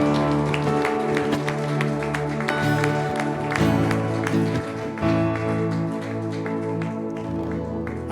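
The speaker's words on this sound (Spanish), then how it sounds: "Se lo va a dar al Señor un aplauso de lo fuerte" Church congregation at a Bolivian evangelical service gives loud, sustained applause, with dense clapping alongside organ or keyboard music and some crowd voices, continuing steadily throughout.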